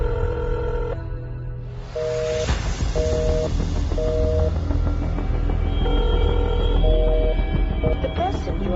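An outgoing phone call rings unanswered, a repeated two-tone ringback pulsing at a steady rhythm under road or vehicle noise, with a voice speaking over part of it.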